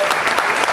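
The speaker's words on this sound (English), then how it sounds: "I think that deserves a round of applause." Audience applause at a book festival cooking talk, a steady wash of clapping from a crowd throughout the brief moment.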